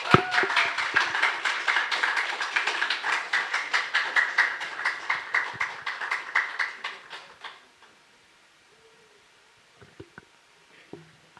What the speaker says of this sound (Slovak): Tak môžeme jej jeden veľký potlesk dať.